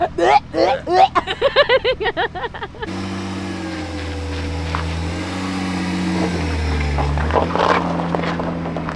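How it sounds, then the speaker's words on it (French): A BMW E36 with an M54 B30 engine starts driving, its exhaust rumbling loud and near, with revs climbing and falling; excited voices talk and laugh loudly over the first few seconds before the engine takes over. "premier tour de roue de cette petite E36"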